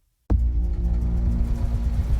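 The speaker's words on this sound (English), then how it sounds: "That's the sound of your engine building up damaging deposits." A car engine starts and runs at a loud, close, steady idle with a deep throbbing rumble and slight revving swells, building up damaging deposits.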